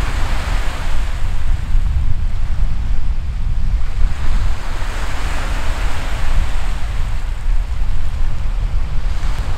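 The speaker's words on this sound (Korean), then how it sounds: "파도 소리 듣고 막 그렇게 있으니까 기분이 좋아요." Sea waves washing onto the shore at a campsite on Daebudo, a loud, continuous surging wash with rolling swells and wind noise, no voices.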